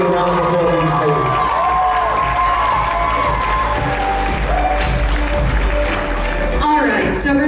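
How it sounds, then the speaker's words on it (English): Crowd applause and cheering for the ladies at the close of the Miss Vietnam DC 2016 pageant, loud and sustained throughout, with shouts and voices mixed into the dense clapping. "Let's give a round of applause to these ladies."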